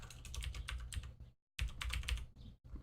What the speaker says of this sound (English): mechanical keyboard heavy